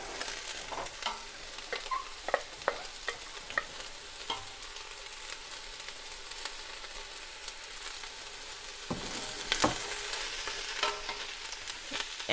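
Onion and garlic frying in melted coconut oil on an electric stovetop, a soft continuous sizzle with scattered clicks and scrapes of a utensil, growing busier toward the end.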